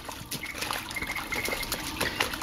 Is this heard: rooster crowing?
no